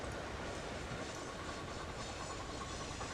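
Train rolling along in the railway game Locomotion, a steady, continuous rumble and rattle of rail wagons heard throughout at moderate level with no talking.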